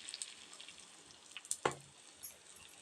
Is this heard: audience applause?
no